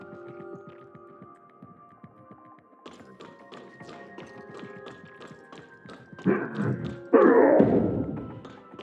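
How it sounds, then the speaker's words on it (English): Banging on a door in the video game Tower of Fantasy: a series of quick, rhythmic taps and knocks over a low hum, building to two louder, heavier thuds near the end. "It sounds like someone's banging on the door."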